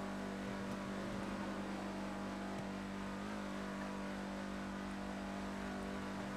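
Car engine driving in reverse in a video game, a steady, loud mid-pitched hum held throughout with little change.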